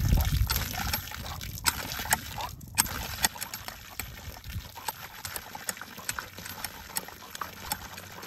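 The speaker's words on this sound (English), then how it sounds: "Holy cow, we got water." Water gushes and splashes from a well pipe after a dry spell, running steadily with irregular sloshing and splattering bursts, close by and without talk.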